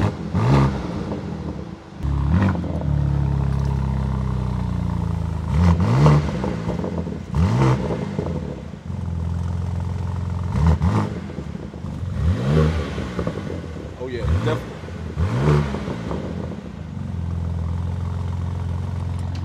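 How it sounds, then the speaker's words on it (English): BMW G81 M3 Touring exhaust with valves open, revved repeatedly in loud, close bursts that rise and fall in a steady rhythm over roughly twenty seconds, with no talking. "Definitely can hear the difference from Sport Plus with the valves open and closed."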